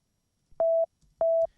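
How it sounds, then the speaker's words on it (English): A pure synthesizer sine-wave tone sounds twice as two short, identical steady beeps with a brief click at each onset, separated by silence. "I'm going to take another sine wave"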